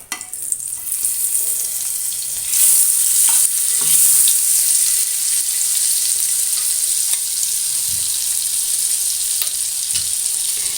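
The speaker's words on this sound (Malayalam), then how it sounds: "അതിലേക്ക് കുറച്ച് ഓയിൽ ഒഴിച്ചിട്ടുണ്ട് കുറച്ച് ബട്ടർ ഇട്ട് കൊടുക്കുന്നുണ്ട്" Butter melting into hot oil in a pan for a vegetable roll filling, a loud, steady, close sizzle that swells slightly after a couple of seconds and continues unbroken with no talking.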